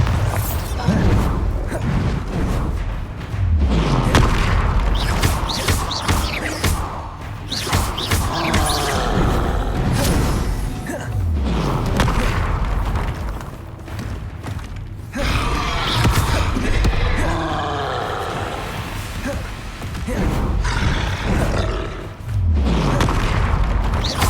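Confringo and Bombarda spells from Hogwarts Legacy blast repeatedly, a dense run of booming explosions and impacts over continuous game noise, with heavy low rumbles recurring every few seconds.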